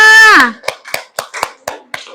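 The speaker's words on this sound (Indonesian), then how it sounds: "sekarang tepuk tangan dulu untuk Awan" Children in a classroom clap in a quick, rhythmic burst of about seven sharp claps, following a voice that calls for applause.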